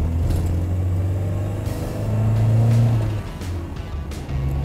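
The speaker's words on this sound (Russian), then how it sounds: "Когда газ уже отправит на пенсию этот мотор, это ужас же. Громкий, шумный, прожорливый, неэффективный" The engine of a GAZ Sobol 4x4 school bus droning loudly and noisily from inside the cabin, a low rumbling note that swells briefly as it pulls, with no talk.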